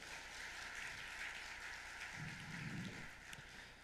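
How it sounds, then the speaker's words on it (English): A conference audience gives a round of applause for a guest introduced on stage, a faint, steady wash of clapping heard from a distance, swelling briefly near the end. "Huge round of applause, guys."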